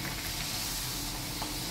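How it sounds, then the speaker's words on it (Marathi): Sweet jaggery puris deep-frying in hot oil in a home kitchen, a steady dense sizzle and bubbling hiss that runs unbroken, close and moderately loud, with no voices. "आता पुऱ्या तळून घेते, गोडपुऱ्या"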